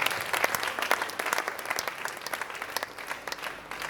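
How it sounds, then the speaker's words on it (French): An audience at a festival concert applauds steadily, a dense patter of many hands at moderate distance that slowly thins toward the end, with a hint of crowd noise underneath. "Est-ce qu'on peut aussi acclamer pour lui?"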